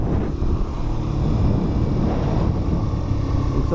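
A Keeway RKV 125cc roadster motorcycle, still being run in, cruises in fifth gear with a steady engine drone buried under heavy wind rush across the microphone, continuous and without talk.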